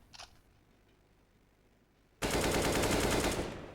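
Gunfire from a Counter-Strike esports match, HELLRAISERS vs. MIBR: a brief faint crack, then near-silence, then a loud, dense burst of rapid shots that holds for over a second and slowly eases off.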